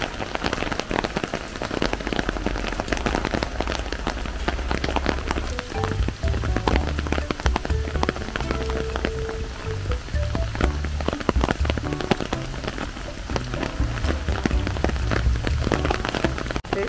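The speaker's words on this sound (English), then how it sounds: "It's so nice though, walking through the park in the rain." Steady rain pattering on surfaces during a walk through a park in Japan, a continuous close wash of drops with a low rumble of footsteps or traffic underneath, no voices.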